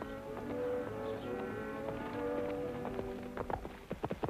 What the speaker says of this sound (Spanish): Esconde los caballos.